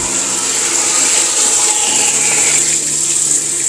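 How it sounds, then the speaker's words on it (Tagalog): Water gushes steadily from a garden hose after a tap is opened, a loud continuous hiss and rush close to the microphone with no talk over it. "may tubig na lumalabas sa hose"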